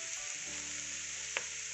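Julienned capsicum and boiled peas fry on high flame in a pan for prawn fried rice, giving a steady, close sizzle with one brief stirring clack and no talking.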